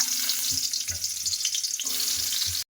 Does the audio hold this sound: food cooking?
yes